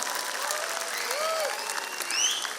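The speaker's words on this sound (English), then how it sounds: "cheer for our children." Crowd of parents cheers and applauds a children's performance at a school annual day, steady dense clapping with a few whistles and shouts rising near the end.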